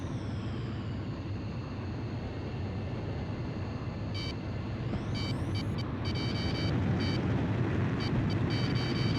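In the Ace Combat video game, high electronic missile-alert tones appear over a loud, constant jet engine rumble, first as isolated beeps, then a rising tone and rapid repeated bursts that grow denser toward the end.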